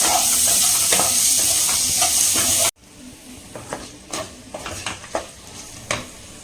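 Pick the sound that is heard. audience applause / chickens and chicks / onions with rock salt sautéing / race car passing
onions with rock salt sautéing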